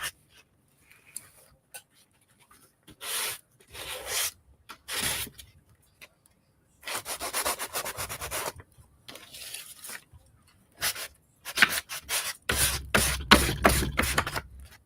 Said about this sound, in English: I sanded, but I don't think I sanded good enough.